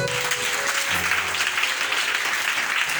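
A church congregation applauds during a service, a steady, full round of clapping from many hands that holds evenly for about three seconds.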